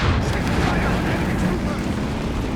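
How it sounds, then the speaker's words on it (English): Assault grenade explosions and dense battle noise from the real-time strategy game Company of Heroes 3, in a 2v2 match on the Frost map, form a loud, continuous, booming wash under a commentator's talk. "Assault grenades in there."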